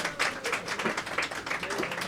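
Scattered clapping from guests at a grand iftar dinner for members, a fairly soft patter of hands with uneven rhythm, somewhat distant in a large room.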